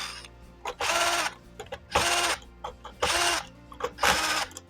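Screws are driven out of a burn-marked electrical box in four separate whirring bursts of roughly a second each, close and fairly loud, with small clicks between them and no talk.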